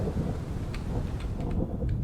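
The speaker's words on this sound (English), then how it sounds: "hopefully you will hear some thunder hum and strikes in the game" Thunder rumbles through the Road to Vostok video game, a steady low roll with faint crackling strikes near the middle, continuous and fairly loud with no voices.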